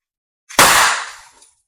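A Byrna CL .61 launcher fires an inert chemical round in a single sharp, loud report that rings out and fades over about a second.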